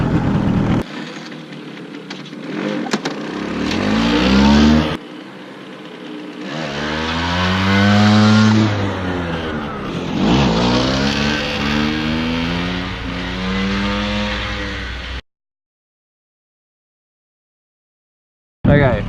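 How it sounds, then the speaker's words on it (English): A motorcycle engine revs hard and accelerates in rising surges as the clutch is let out for a wheelie, loud and close, with a brief silent gap near the end. "rev it up, let the clutch out, and away we go."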